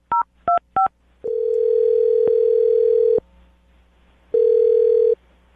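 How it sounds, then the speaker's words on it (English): A telephone handset plays three short dialing tones in quick succession, followed by a steady dial tone that holds for about two seconds, a brief pause, then another shorter burst of tone; the sounds are close and clear with no talking. "I'm going to dial the phone number right now"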